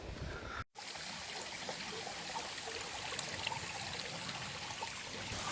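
A river rushes steadily at a crossing on a Welsh coastal path, a close, continuous wash of flowing water with no pauses and no voices.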